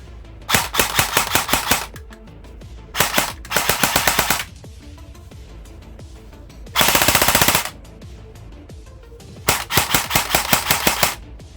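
An electric airsoft gun on an 11.1-volt battery, with slight gear rubbing and a low rate of fire, lets off four close, loud bursts of rapid mechanical shots separated by short pauses.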